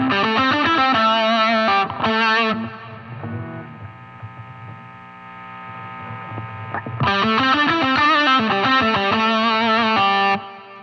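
A distorted electric guitar plays through a solid state amp and pedal, bright sustained chords ringing, then a quieter humming stretch of low noodling, then loud distorted chords again.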